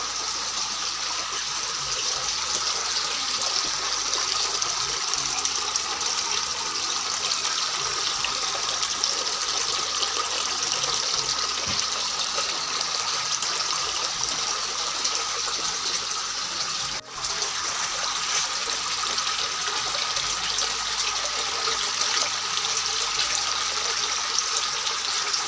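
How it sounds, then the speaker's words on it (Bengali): Water from a small lighted fountain pump rushes up and spills back down into a basin or tub, a loud, steady, close gushing flow that runs throughout without a break. "আমাদের পাম্প কাজ করছে, জল রিটার্নিং আবার এই পাম্প থেকে উঠে আবার উপরে যাচ্ছে, উপর থেকে আবার নিচে আসছে"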